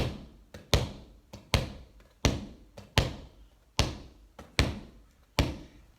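A ball dribbled one-handed on a hard floor gives regular, sharp thumps about every three-quarters of a second, with fainter in-between bounces, close and without speech.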